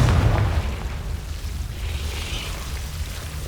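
A Confringo spell explosion in the Hogwarts Legacy video game, a loud close boom at the start that fades into a long rumbling, crackling tail.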